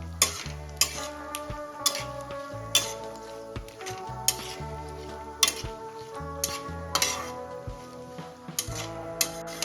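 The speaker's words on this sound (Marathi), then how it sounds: "हे बघा इथे आपले ड्रायफ्रूट छान भाजून झालेले आहे" Dry fruits and raisins roast in a pan for vermicelli kheer, giving a soft sizzle with a spoon scraping and clinking against the metal in a steady, repeated stirring rhythm.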